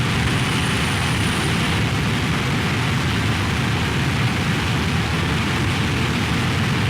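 An airplane in a video game flies on with a loud, steady, broadband engine roar that stays even from start to finish.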